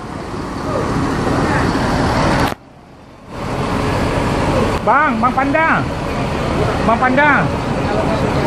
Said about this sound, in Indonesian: Inilah keadaan Terminal Pondok Pinang Lebak Bulus